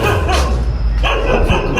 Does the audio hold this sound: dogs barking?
yes